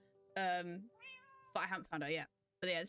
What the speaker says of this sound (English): That's the cat I was trying to find.